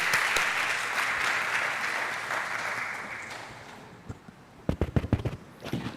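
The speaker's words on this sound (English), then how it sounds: "give a warm round of applause" A warm round of audience applause welcoming a speaker on stage at a lecture, steady crowd clapping that tapers off, ending with a few louder isolated claps nearby.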